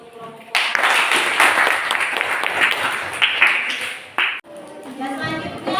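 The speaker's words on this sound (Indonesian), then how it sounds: "Kita kasih aplaus dulu untuk kelompok." A class applauds a student group after its presentation on digestive organs, a dense burst of many hands clapping at close range that holds for several seconds, then cuts off and gives way to a voice speaking.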